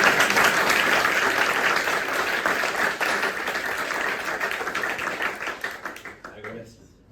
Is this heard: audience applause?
yes